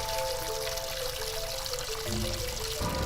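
Water pours in a steady stream from a faucet held by a cat, a continuous close splashing rush with a shift in tone near the end.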